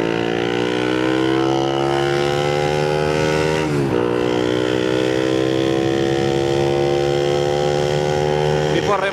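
Remapped Honda Winner X motorcycle with a silencer-fitted exhaust, ridden on the road: a steady, loud engine drone whose pitch climbs, dips sharply at a gear change, then climbs again as it pulls.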